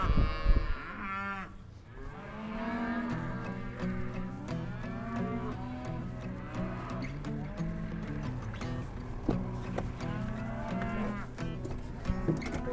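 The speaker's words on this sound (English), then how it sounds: "It's a good-looking set of cow, first calf heifers with the babies" First-calf heifers and their young calves moo repeatedly on a farm, several overlapping bawling calls rising and falling close by, with a steady low rumble of background noise throughout.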